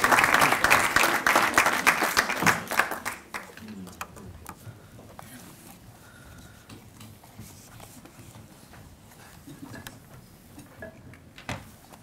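Dense applause from an audience at a university awards ceremony, loud and sustained for about three seconds before thinning into scattered, fading claps that trail off beneath a quiet room.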